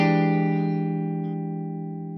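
Clean electric guitar, unprocessed before a Boss CP-1X compressor, rings out in held notes that sustain steadily and slowly decay, heard alone with no talk.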